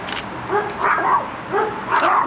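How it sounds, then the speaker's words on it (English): Dogs yipping and whimpering close by in a series of short, excited bursts with no talk over them. "Gabby, the dogs don't speak German"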